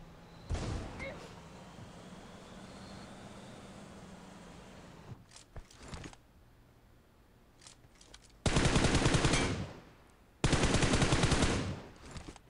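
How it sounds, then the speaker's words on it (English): Gunfire in a mech-mode battle royale video game, with a burst of shots early on and two later loud sustained volleys of rapid fire, each roughly two seconds long, over a low game background. "I hear a sniper."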